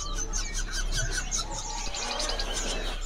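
A caged grey-headed babbler sings in a bird market setting, giving quick repeated chirping notes mixed with other faint bird calls over a low steady hum, fairly quiet and brief.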